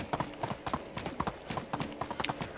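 Horse hooves gallop in the medieval village game Medieval Dynasty, a quick, close, rhythmic clip-clop that runs without a break.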